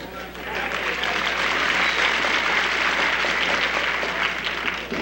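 The crowd at a wrestling match between Pat O'Connor and Lorenzo Parente claps in sustained, dense applause that swells and holds for several seconds, with faint voices mixed underneath.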